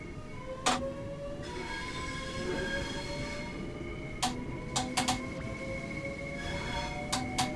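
Train Sim World 3 locomotive pulling away after the brakes release: a steady rumble with rising motor whine and squealing wheels, punctuated by sharp clicks and clacks from the rails, loud and continuous throughout.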